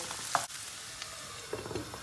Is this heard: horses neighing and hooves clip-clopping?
no